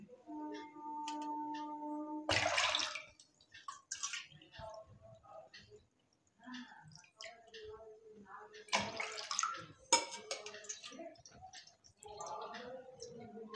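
Water poured bowl by bowl into a cooking pot for masala pulao, a few splashy pours separated by pauses, with a voice speaking in between.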